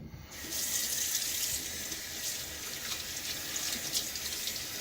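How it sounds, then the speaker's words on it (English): Tap water runs steadily into a bathroom sink while the threads of a Gillette ABC Pocket safety razor are rinsed, a continuous close hiss with no talking. "I was rinsing off the threads here"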